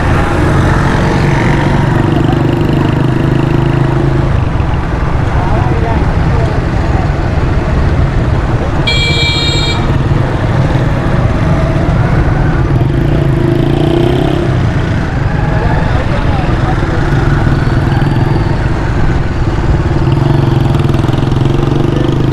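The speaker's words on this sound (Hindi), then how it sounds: "अब ये है हमारा मोटरसाइकिल का सफ़र जो आगे जा रहा है" Motorcycle engine droning steadily while riding through congested Karachi street traffic toward a mobile phone market, with continuous road noise and a brief horn beep partway through, alone without talk.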